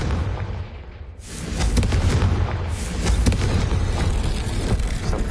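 A deep explosive blast from a fire-based blasting spell in the Hogwarts Legacy game, bursting suddenly after a brief lull and followed by a sustained roaring rumble with crackling debris, loud and close.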